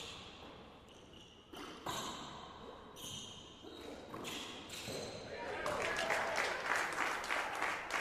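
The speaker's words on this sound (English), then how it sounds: "Crowd puts their hands together" Spectators at a men's quarterfinal pickleball match at a pro stop in Atlanta clap their hands, the applause starting as scattered bursts and then swelling into dense, sustained clapping, with some crowd voices mixed in.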